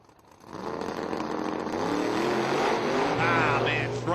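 Outlaw 275 Nitrous X drag race car tearing down the strip, its engine rising from quiet to a loud, steady roar that holds to the end, with a commentator talking over it.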